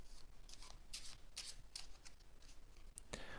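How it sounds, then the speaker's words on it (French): A deck of playing cards for a magic trick, an asymmetric trick deck, is shuffled in soft, papery bursts, several quick riffles in a row, quiet and close, with no talking. "j'ai ici bien sûr un jeu de cartes que le spectateur peut mélanger lui-même"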